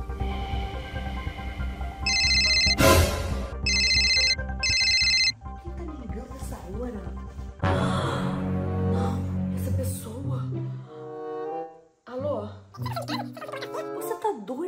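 A telephone rings late at night in a home: repeated electronic ring bursts at close range, then the call is answered and someone talks while background sounds follow.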